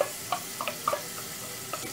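Garlic and onion fry in a pan for farofa, a soft steady sizzle broken by light scattered pops and crackles, close and alone.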